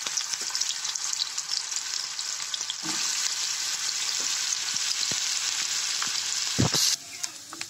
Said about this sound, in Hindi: आलू को थोड़ा टाइम लगता है तेल में फ्राई होने के लिए